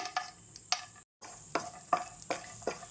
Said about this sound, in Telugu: నెయ్యి కొంచెం హీట్ అయిన తర్వాత ఇలా మనం డ్రై ఫ్రూట్స్ని వేపుకుని తీసుకోవాలి